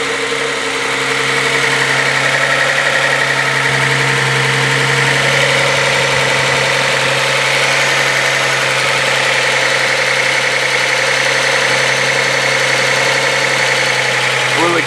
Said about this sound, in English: I think there might be a small exhaust leak somewhere.